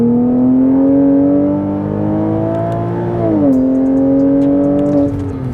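A Porsche with a Tiptronic automatic transmission drones steadily while driving, a loud, close, sustained engine tone that rises slightly and then dips as it shifts.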